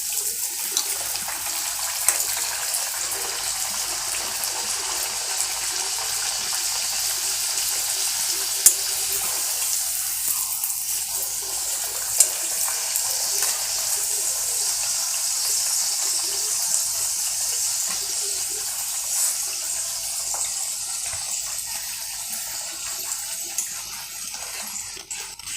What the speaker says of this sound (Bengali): কড়াতে আমার সাদা তেলটা গরম হয়ে গেছে, এইবারে এইটা আমি খুব আস্তে আস্তে ছাড়লাম।